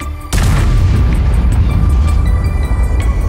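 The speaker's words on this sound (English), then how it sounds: "Now the big guns will go boom." A big tank gun fires in World of Tanks with a sudden loud boom, followed by a heavy rumbling roar that sustains and slowly rolls on, with no voices.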